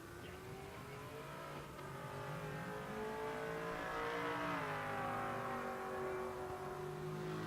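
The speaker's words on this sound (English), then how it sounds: "How about naturally aspirated small block? 434 smaller cubic inches." A drag racing car with a naturally aspirated 434 cubic inch small block engine at a motorsports park, its tonal engine note climbing and shifting as it revs hard and accelerates, loud and continuous.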